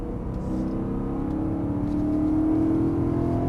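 A BMW M3 E92 V8 on a racing circuit during a driving course, engine note rising steadily as it accelerates out of a corner, a smooth mid-pitched drone heard from inside or close by with no talk.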